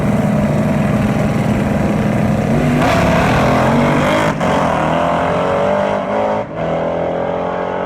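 A drag race car tears down the track on a record pass at about 149 mph, a loud continuous engine roar with brief dips near the end, no voices.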